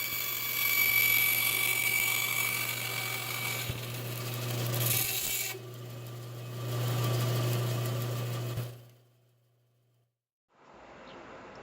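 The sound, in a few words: saw cutting a slot into plastic conduit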